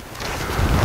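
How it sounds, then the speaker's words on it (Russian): A brief, loud gust of wind rumbling against the microphone outdoors, growing stronger toward the end of the moment. "Да нормально, ветер попутный."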